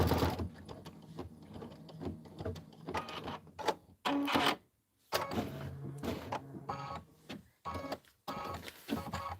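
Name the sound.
embroidery machine stitching a Kimberbell pillow block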